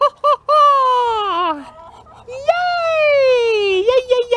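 A pet duck calls in a close, loud run of long, wavering, nasal cries, with a brief pause between two drawn-out calls.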